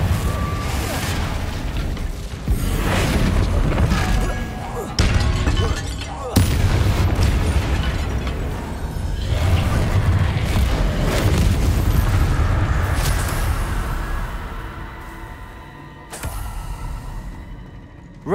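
Blasting-curse explosions from Hogwarts Legacy fired in a fight against Inferi, a dense run of loud booms and bursts layered over combat clatter and game music, continuous for most of the stretch and thinning toward the end.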